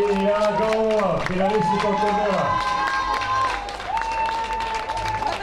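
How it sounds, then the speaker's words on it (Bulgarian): Audience applauding at a women's fight event with a title belt presentation, steady loud clapping and crowd noise with a commentator talking over it throughout. "Заслужени аплодисменти за българката Еляна Галабова."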